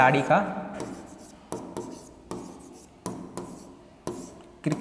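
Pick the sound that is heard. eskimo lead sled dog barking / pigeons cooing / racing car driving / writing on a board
writing on a board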